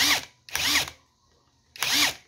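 A Chinese-version Makita DTW300 impact wrench runs in three close, loud bursts of whirring and rapid hammering, separated by brief pauses of near silence.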